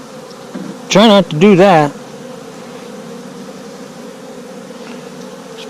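Honey bees hum in a steady, close drone around an opened beehive on a warm January day, while someone speaks briefly over the buzzing near the start.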